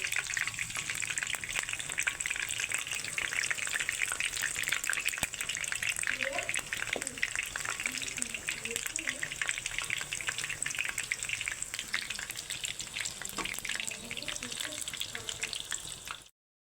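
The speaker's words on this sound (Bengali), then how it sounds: "এই যে তেলে দিয়ে দিয়েছি তেল গরম হয়ে গেছে আর তেলে দিয়ে দিয়েছি এই যে এই দেখুন এখন লাল লাল করে ভাজা হচ্ছে" Hinche greens fritters deep-fry in hot oil with a steady, dense sizzle and crackle that runs continuously, close and fairly loud, with faint kitchen clinks and a voice murmuring underneath.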